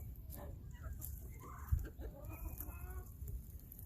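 Chickens clucking softly at a distance in a farmyard shared with a pied Muscovy duck, scattered low calls over a constant background hum, with a single faint thump midway.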